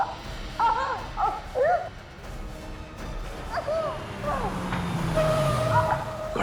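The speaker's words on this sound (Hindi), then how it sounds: "गाड़ी की आवाज" A car approaches at night, its low engine tone sliding downward over a few seconds, faint beneath voices and dramatic background sounds.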